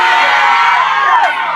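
A church congregation at a Pentecost service shouts cries of joy together, a dense, loud, sustained wall of cheering and whooping voices filling the room without a break.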